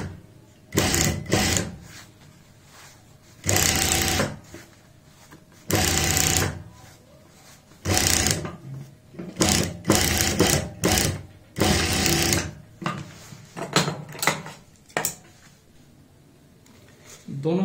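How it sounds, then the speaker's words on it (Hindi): Sewing machine stitching a handbag, running in repeated short bursts of fast mechanical whirring separated by pauses, close and loud, alternating with a person talking. "दोनों साइड में हमने यहाँ पे सिलाई लगा ली है।"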